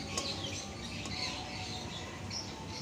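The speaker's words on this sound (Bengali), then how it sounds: "বারান্দায় রান্না করছি পাখির কিচিরমিচির ডাকের শব্দ" Birds chirping and squawking near a riverside balcony, small scattered calls over a steady background hiss.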